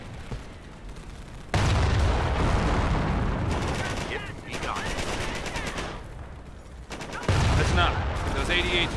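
Rapid machine-gun bursts and rifle fire crackle through a World War II battle in Company of Heroes, loud and sustained, with surges of heavy fire, short lulls and muffled shouting voices.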